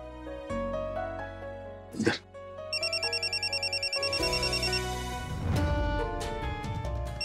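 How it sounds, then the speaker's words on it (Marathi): A phone ringtone plays, an electronic melody with rapid repeated beeps over background music and a brief noisy burst. "कांचन मॅडमचा फोन."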